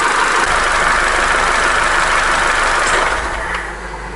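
An Opel Corsa D with the A14XER petrol engine idles during warm-up with a reported engine knock, giving a steady, loud, close mechanical hum that eases slightly in volume near the end, with no talking.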